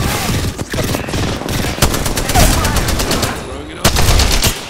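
Rapid automatic gunfire in the video game Ballistic, loud and close, with dense bursts of shots separated by short pauses and a voice speaking over it.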